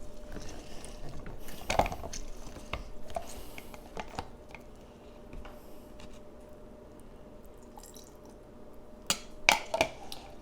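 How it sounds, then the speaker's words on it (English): Citrus fruit being squeezed by hand in a home kitchen: soft squishing and faint juice drips, with a few sharper clicks and taps scattered over a quiet background and no talking. "I'm gonna juice it a tiny bit more."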